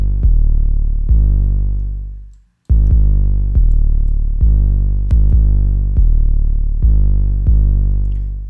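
Deep trap 808 bass notes with pitch-slide automation, each booming hit gliding downward over a longer time; a steady sequence of loud, close sub-bass hits with one short pause, no voices.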